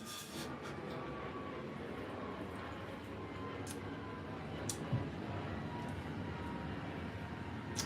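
A fixed-wing airplane flying overhead gives a steady, broad roar that holds fairly loud and even across the whole stretch, with a few faint ticks and knocks on top and no talk.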